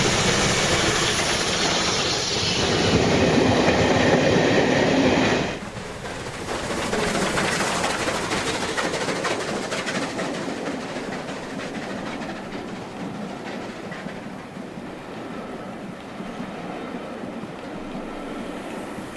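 A Hornby R2170 model locomotive runs along a model railway track with a steady mechanical whir and rail clatter that shifts partway through and then continues evenly.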